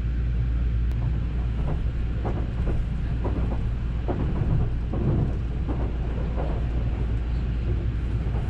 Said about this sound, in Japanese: サンダーバードとすれ違いましたね